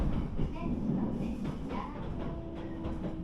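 A train pulls out of a station on a mini Shinkansen line in Japan, with low rumbling running noise, a faint steady tone and soft rattles throughout.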